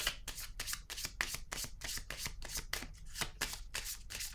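A tarot deck is shuffled in a steady run of quick, crisp riffling strokes during a card reading, close and soft, with no voices over it.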